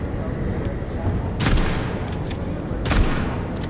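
Gunfire in the Atomic Heart video game: two sharp bursts of shots stand out over a dense, steady bed of game noise, loud and close.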